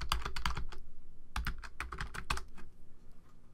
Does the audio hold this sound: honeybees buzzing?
no